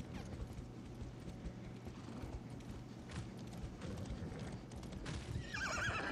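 Horse neighing and clip-clopping hooves in the video game Far Cry 6, steady galloping footfalls running throughout with whinnies over game ambience, close and moderately loud.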